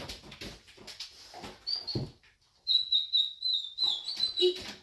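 A good-natured dog whimpers and whines in high, thin squeaky tones, a few short cries and then a longer run of nasal whimpers, close by with some soft rustling and no talk.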